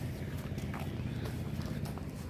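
Horse hooves clip-clopping on a road in Jaffna, a steady run of soft hoofbeats under a constant low rumble of background noise.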